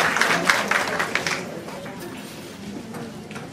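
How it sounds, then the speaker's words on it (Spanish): An audience at a university education event applauds a teacher, a dense patter of many hands clapping that fades over a few seconds while a voice talks over it. "Un aplauso para la profesora."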